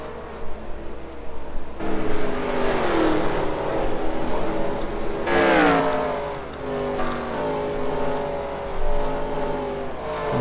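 V8 Supercars race cars roar through a turn on a circuit, engines revving and shifting loudly as several cars pass close one after another, with no voices heard.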